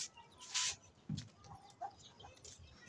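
A hen clucks a few short times, fairly close, with quiet pauses between the calls.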